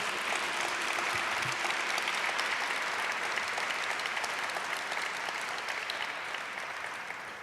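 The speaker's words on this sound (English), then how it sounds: "So let's give a round of applause for SF Safe." A crowd at a community awards ceremony gives a sustained, dense round of applause that holds steady and fades slightly toward the end.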